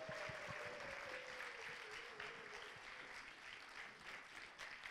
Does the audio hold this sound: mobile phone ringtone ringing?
no